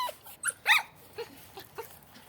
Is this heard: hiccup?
no